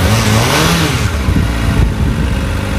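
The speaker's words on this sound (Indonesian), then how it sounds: "Ini akan saya coba revving ya" A motorcycle engine revving, rising in pitch toward higher rpm and then falling back, loud and close with a rough mid-range exhaust note and no talking.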